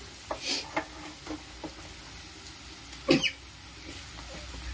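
A spicy puffed rice mixture with chilli powder is fried and stirred in a pan, giving a low faint sizzle broken by a few scraping strokes, one louder clatter near the end.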